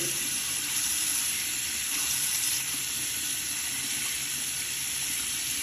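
Hot water runs steadily from an upstairs tap in a Port Melbourne home under inspection, giving a constant hissing gush that stays even from start to finish with no talking.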